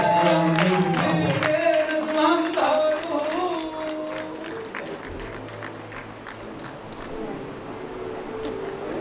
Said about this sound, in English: big round of applause for our amazing couple.